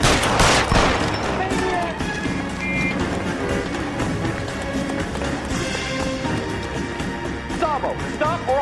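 Gunshots ring out in the video game L.A. Noire, a burst of sharp shots at the start followed by busy, loud game action with music and voices mixed in.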